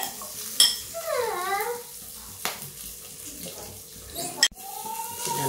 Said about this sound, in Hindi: ये देखिए, मेरा प्याज पक रहा है।